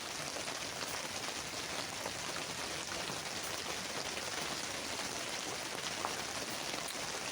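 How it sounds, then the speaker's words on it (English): Heavy rain pours down in a dense, continuous roar, loud and unbroken from start to finish with no voices. "I'm not sure if you can hear me over this rain."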